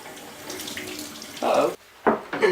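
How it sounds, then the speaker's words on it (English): Warm running tap water splashes steadily into a sink, with bursts of heavier gushing as wooden cutting boards pass under the stream. "I will take these inside and wash them off with some warm water"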